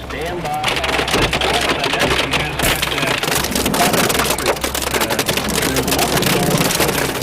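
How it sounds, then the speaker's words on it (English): Hail pounding on a car during a darkening storm, a dense crackling clatter of ice striking metal and glass, loud and continuous, with someone narrating over it. "As moments pass, the sky grows darker and the hail intensifies."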